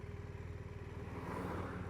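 A BMW R1200RT motorcycle engine idles nearby with a steady, low pulsing throb that keeps an even rhythm for a couple of seconds, with no talking.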